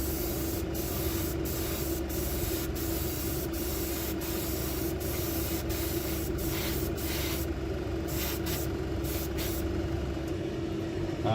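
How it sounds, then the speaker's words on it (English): An airbrush sprays fabric paint in a steady, close hiss that is broken by short rhythmic pauses as the gun passes, with no talk. "So we'll just run a little bit slower with the gun."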